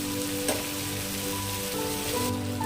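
Teasel gourd going into spiced masala in a hot pan, a steady sizzling hiss with crackling and spattering throughout, close and fairly loud, no voices.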